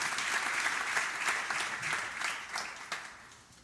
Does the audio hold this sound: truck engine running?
no